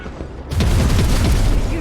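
During a Warhammer 40k: Rogue Trader turn-based battle, a rapid fire attack erupts with a heavy booming burst followed by a dense, rumbling flurry of impacts.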